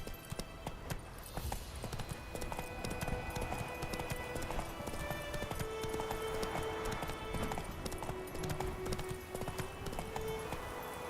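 Roach the horse trotting in The Witcher 3, a rapid steady clip-clop of hooves over ambient game sound, continuing throughout with no talking.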